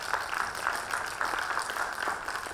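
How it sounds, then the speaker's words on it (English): Audience applause at a communication talk, a steady, fairly faint wash of many hands clapping that holds evenly throughout, with no voices on top. "Give a round of applause."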